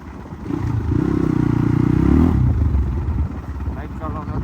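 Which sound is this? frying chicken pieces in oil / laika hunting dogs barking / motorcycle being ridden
motorcycle being ridden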